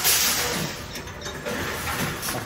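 A bottle and can recycling machine in Canada whirs and clatters as it rejects a returned item. The mechanical grinding and ratcheting is close and fairly loud.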